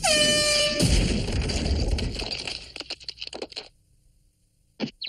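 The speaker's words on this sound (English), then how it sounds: "the fan's most loyal companion, the air horn" A loud air horn blast sounds for under a second, followed by a burst of rattling, clattering noise that fades into scattered clicks.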